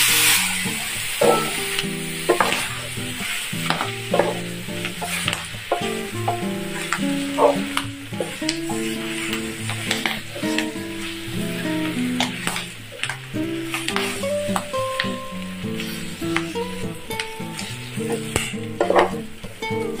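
Pork belly frying in melted sugar for Chinese braised red pork, a loud continuous sizzle with repeated scraping stirs and clanks of the utensil against the pan throughout.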